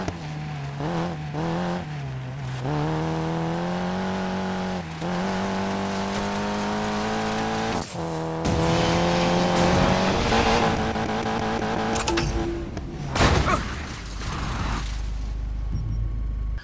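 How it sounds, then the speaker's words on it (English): An off-road car in Need for Speed Payback races at speed, its engine droning loud and close with gear shifts, rising revs and brief tire squeals, no voices over it. "Drive really fast for this one with an off-road car."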